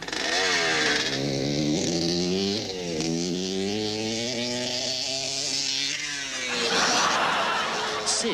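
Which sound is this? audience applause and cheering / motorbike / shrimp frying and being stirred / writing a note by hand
motorbike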